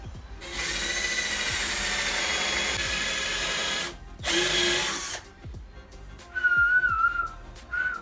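A power drill bores dowel holes in wood, with two loud sustained whirring bursts, the second shorter, followed by fainter tool handling and a higher-pitched whine.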